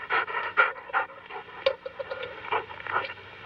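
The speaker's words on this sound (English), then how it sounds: "The dogs." Dogs panting in a horror film scene, quick rhythmic huffing breaths in bursts roughly every half second, fairly close and moderately loud, with no talk over them.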